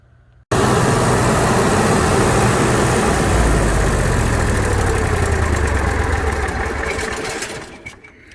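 An Onan 5500 generator engine runs steadily and loudly up close, a constant mechanical drone that starts abruptly and carries on for several seconds before easing off near the end.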